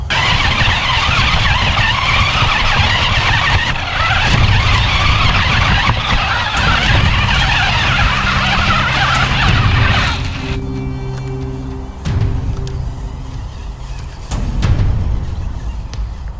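A remote control toy car drives hard across a surface, its motor whining loudly with gritty skidding and scraping throughout, a few sharp bumps, then a brief slowdown before it revs again.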